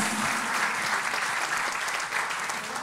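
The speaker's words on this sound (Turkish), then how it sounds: "gelsin alkışlarınız" Audience applause in a concert hall after a Turkish classical music choir performance, steady dense clapping filling the space with a slight swell near the end.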